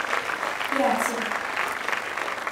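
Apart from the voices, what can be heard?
applause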